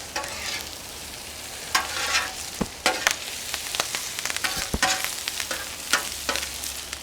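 Pastrami hash sizzling and being stirred on a hot Cuisinart 360XL flat top griddle, with a steady fry hiss broken by sharp spatula scrapes and clacks at an uneven rhythm, close and fairly loud with no talking.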